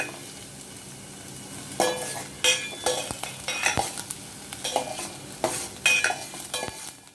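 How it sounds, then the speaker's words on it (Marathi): Carrots, corn kernels and capsicum sautéed in a pan for vegetable soup, with repeated sharp stirring scrapes and clinks of a spoon against metal over a steady sizzle, close and lively. "गाजर घालून घ्यायचे, शिमला मिरची घालून घेणार आहे. साधारण 1 ते 2 मिनिटं आपण हे परतून घेऊ."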